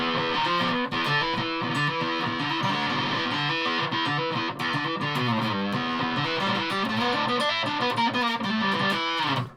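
Thick, distorted piccolo bass tone through a fuzz pedal with fuzzy, saturated sustain, playing a continuous riff of notes without pauses, loud and close.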